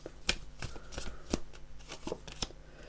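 Oracle cards are shuffled and handled during a reading, a run of crisp riffling snaps and soft slaps arriving every half second or so, close and fairly quiet, with no talk.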